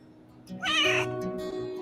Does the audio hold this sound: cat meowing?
yes